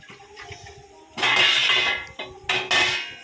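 Eggs go one after another into a pan of boiling water, giving a couple of sharp metallic clatters and bursts of splashing bubbling, close and fairly loud.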